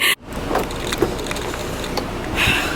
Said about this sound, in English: It's hard to talk to you guys while I'm driving